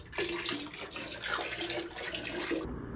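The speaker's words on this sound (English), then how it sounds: "I don't know if you can hear that, but Rit dye ASMR bubbles" Water from a tap runs into a bathtub mixed with Rit dye, a steady, close rush with bubbling and gurgling underneath, continuous and fairly quiet, with no voices.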